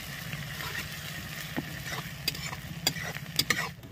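Garlic and chilies fry in a pan with browned onions for mutton curry, giving a faint, steady sizzle broken by a few soft scrapes and clicks of stirring near the end.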